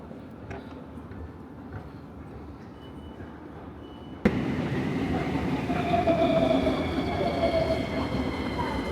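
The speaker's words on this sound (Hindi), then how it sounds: "ये जी बुखारेस्ट का मेट्रो है।" A Bucharest metro train rumbles in a station, quiet at first, then a sudden loud surge as it roars and rattles close by with squealing wheels and steady track noise.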